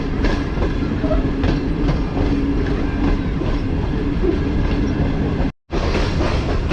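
The Tezgam express rolls along the rails approaching Lala Musa Junction, a loud continuous rumble with faint rhythmic clacking, cut by a momentary dropout near the end.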